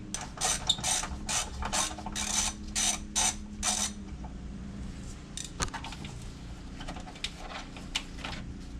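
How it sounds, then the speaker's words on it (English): A ratchet loosens a 13 or 14 mm car battery hold-down bolt with a close series of quick clicking bursts, followed by quieter scattered metallic clicks and taps. "it's either a 13 or 14mm bolt that holds the battery in place. So I'm gonna go ahead and loosen that up"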